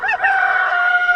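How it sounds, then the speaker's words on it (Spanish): A rooster crows loudly and close by, one sustained cock-a-doodle-doo call lasting the whole moment with no other sounds. "Y cantó el gallo, y rompía yo la maldición."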